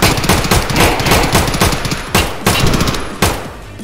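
Rapid bursts of video game gunfire crack loudly and continuously, with several sharper volleys punctuating a dense automatic-fire barrage, no voices over it.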